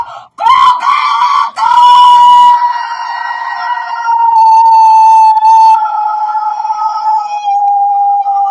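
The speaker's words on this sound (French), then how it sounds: "Voilà mon coq." A rooster crows loudly and close by, several long strained calls in a row with brief breaks, heard alone.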